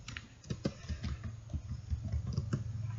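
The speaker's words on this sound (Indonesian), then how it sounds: "kita ketikkan IP root" Quick bursts of typing on a computer keyboard as an IP route command is entered, close and fairly quiet clicks in an irregular rhythm, no talking.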